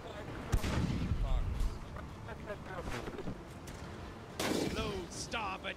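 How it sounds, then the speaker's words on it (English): Ship cannons firing grape shot in the naval game Blackwake, two sharp booming volleys with crackling bursts, loud and close, amid game ambience. "Starboard cannons with grape shot."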